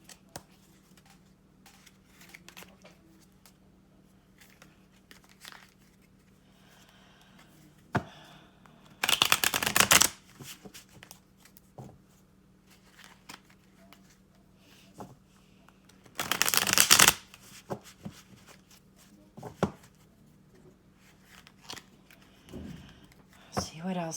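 Tarot cards are shuffled in two loud, dense riffling bursts, with softer card taps and handling in between, all under a quiet, steady background hum.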